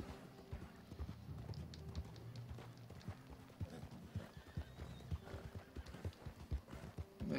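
Horse hooves clip-clop at a steady walking pace in Red Dead Redemption 2, quiet, close and continuous, along with faint snorting, low game ambience and a brief whinny.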